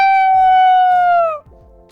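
A single long, loud, sustained howl from a human voice imitating a wolf or dog holds a steady pitch, then drops and trails off near the end.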